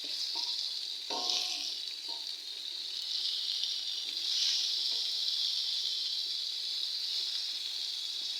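Slices of brinjal fry in oil in a covered pan, giving a steady close sizzle and hiss with a few brief clatters as the pieces are handled.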